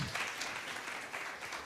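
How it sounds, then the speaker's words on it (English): A round of applause from the audience at a national symposium on ending teenage pregnancy and child marriage, steady clapping heard somewhat distant and soft throughout. "Let's give them another round of applause."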